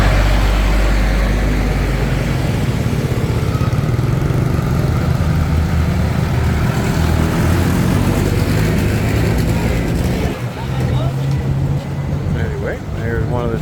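A big truck rumbles past loudly on a busy street in the Philippines, its engine drone steady and close, with other traffic noise around it and a slight dip near the end.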